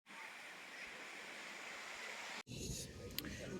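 Waves and rushing water at a beach near Perpignan, a dense, steady roar that breaks off briefly and resumes with splashy surf.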